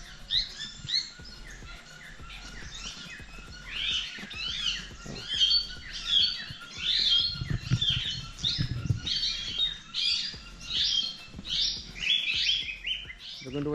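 Small parrots and lovebirds, including African parrots, chirp and squawk together at a zoo in a dense, continuous chatter of many birds at moderate distance, with some low rustling underneath.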